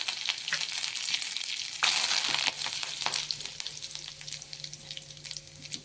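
Curry leaves dropped into hot oil with cumin for a bitter gourd stir-fry, a close crackling sizzle that flares sharply partway through, then settles into a gentler spatter.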